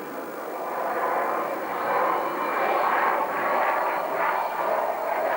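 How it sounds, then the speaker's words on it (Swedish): Propeller-driven aircraft engine starting up during a vertical stall manoeuvre at an air show, a loud sustained droning roar that swells and pulses slightly as it runs, with no talking. "När tyngdkraften drar ner den mot marken så riktar piloten nosen neråt, startar motorn och häver situationen."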